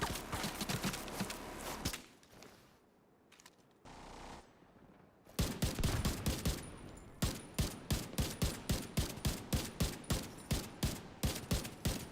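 Gunfire from a weapon in the video game The Division 2, a loud burst of rapid shots followed by a quieter lull, then a long run of evenly spaced heavy shots in a steady rhythm.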